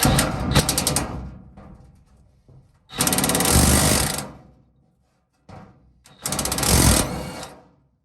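Impact driver backing out a large-headed rusty screw on an Atlas industrial tool cart, heard as two loud bursts of rapid hammering, each lasting about one to two seconds, with a brief quieter burst between them. No one speaks.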